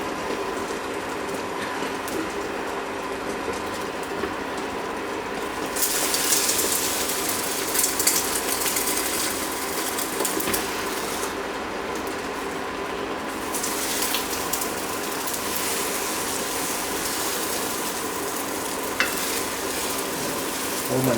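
Eggs fry in a wok for Cantonese chicken fried rice, a steady, close sizzle with a busy crackling hiss that swells brighter midway as the egg is swirled around the pan, no voices.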